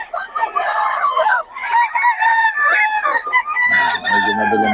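A Boston Sweater gamefowl rooster crows close and loud in several strained, drawn-out calls, with a low background rumble coming in near the end.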